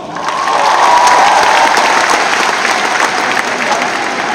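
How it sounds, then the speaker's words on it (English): An audience at an event honouring basketball stars bursts into loud, sustained applause, a dense wash of clapping with some crowd noise that holds steady throughout. "So please give all yourselves a round of applause."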